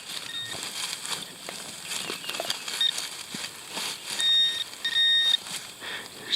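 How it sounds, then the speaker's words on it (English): Metal detector pinpointer beeping in loose dirt while digging an 1800s trash pit, with thin, high electronic tones repeating under scraping and rustling of soil. "There's definitely more beeping in here."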